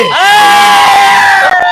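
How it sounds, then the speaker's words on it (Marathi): Supporters celebrating an election result raise a loud, sustained shout, a crowd yell that swells for nearly two seconds close by before breaking off. "तुम्ही पाहू शकता कशा प्रकारचा जल्लोष या ठिकाणी आहे"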